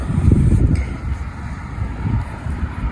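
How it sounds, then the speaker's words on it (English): Wind buffets a microphone outdoors, a steady low rumble with gusty surges and no voices. "It's a little windy here"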